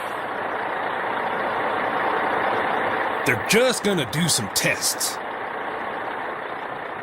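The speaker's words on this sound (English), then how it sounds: "The engine's going!" A large engine runs steadily at idle after start-up during tests, a continuous broad rumbling drone that holds throughout while someone talks briefly over it midway.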